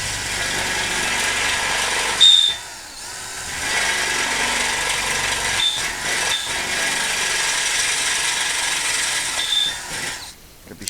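A drill bit enlarges a hole in metal for a caster stem on a bandsaw mobile base, giving a steady grinding whine for several seconds, broken by a couple of short pauses as the bit bites and eases.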